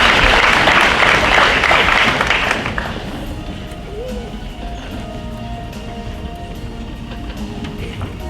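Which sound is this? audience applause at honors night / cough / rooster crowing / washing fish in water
audience applause at honors night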